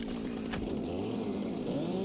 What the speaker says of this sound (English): Now, the cool thing about the chainsaw is it takes out everything in the area.